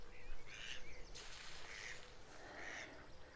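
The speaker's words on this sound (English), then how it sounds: "As you can hear, we've got some very noisy ducks about." Several harsh, nasal duck calls sound out at a moderate distance over a steady outdoor background at Thornton Reservoir, Leicestershire, arriving in short bursts with brief gaps between them.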